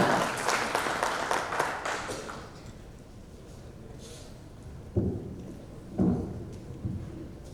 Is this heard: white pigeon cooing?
no